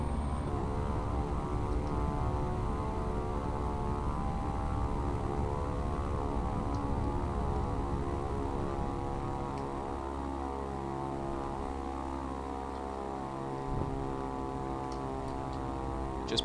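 Light propeller airplane taxiing off the runway after landing, heard from inside: a steady loud droning engine and propeller hum with a buzzing harmonic texture, pitch dropping slightly partway through as power eases.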